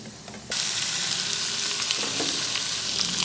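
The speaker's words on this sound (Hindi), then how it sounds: "कीमा ऐड करके इसको हाई फ्लेम पे तकरीबन 5 मिनट फ्राई करें।" Minced meat sizzling loudly in a pan with light golden fried onions over a high flame, a sudden burst of steady frying that starts half a second in and keeps hissing with faint stirring scrapes.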